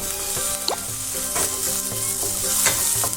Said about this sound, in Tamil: ஃபஸ்ட்டு பூண்டு ஆனியன் கொஞ்சம் கேரமலைஸ் ஆகுது. இந்த டைமில் கேரட், உருளைக்கிழங்கு ரெண்டையும் போட்டுக்கலாம்.